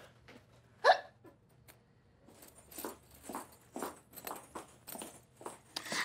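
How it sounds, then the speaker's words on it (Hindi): A woman's hiccup after eating rabri, one sharp, clear hiccup near the start, followed by a stretch of faint indistinct talking and rustling in a room. "मैं जाती हूँ, हिचकी आ रही है।"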